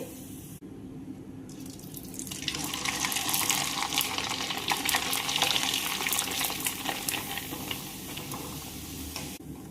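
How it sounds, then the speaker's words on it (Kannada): Papad made from chana dal or moong dal frying in oil, giving a steady close sizzle with crackling that swells and holds at moderate loudness, with no one talking. "ನಾವು ಒಂದು ಸ್ವಲ್ಪ ಫ್ರೈ ಮಾಡ್ಕೊಂಡ ಉಳಿದ ಡಬ್ಬಿ ತುಂಬಿ ಇಟ್ಕೋತೇನು ನೋಡ್ರಿ"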